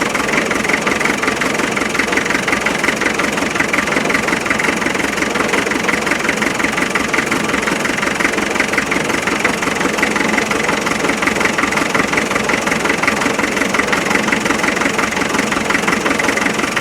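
A 1991 2.5 naturally aspirated diesel engine from an ex-military Land Rover 90 idles roughly, its fast, even knocking clatter loud and continuous as it shakes.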